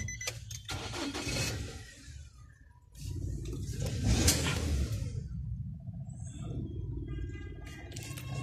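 A used automatic car with a reconditioned engine cranks and turns over, then settles into a low running rumble, with some clicks and rattles nearby.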